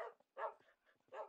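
Dogs bark in the winter video game Winter Nomad: three short, fairly close yapping barks spaced about half a second apart, with no talk over them.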